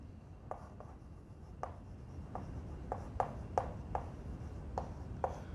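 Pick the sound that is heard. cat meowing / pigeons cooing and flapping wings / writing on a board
writing on a board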